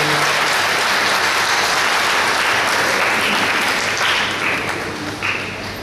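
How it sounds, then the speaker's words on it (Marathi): An audience at a save-the-girl-child event in Sangli applauds to welcome a doctor, steady loud clapping from many hands that holds evenly before easing off near the end. "त्यासाठी सर्वांनी परत टाळ्या वाजवून त्यांचं स्वागत करूया."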